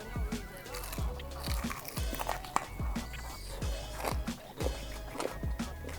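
Buttermilk-soaked, mustard-seasoned fried chicken crunches close to the mouth, with repeated crisp bites and chews falling in an uneven rhythm and a voice faintly beneath.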